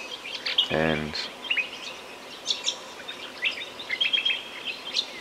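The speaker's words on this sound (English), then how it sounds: "the birds are crazy" Birds call and chirp through the morning at the southern Lost City, with scattered high, quick notes near and far throughout. A person briefly speaks at the start.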